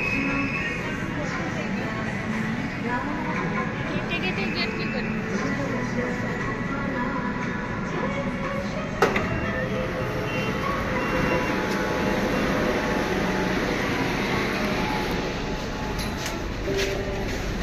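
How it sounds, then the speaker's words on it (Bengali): Kolkata metro train arriving at the Esplanade station platform, a continuous loud rumble and rolling roar with a sharp clank partway through, amid crowd noise and voices nearby. "আমাদের এদিকেও মেট্রো চলে এসছে।"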